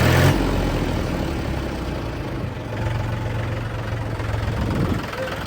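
An Indofarm 3048 tractor engine runs at moderate level, a steady low mechanical drone that briefly rises in pitch as it is revved, with no voices.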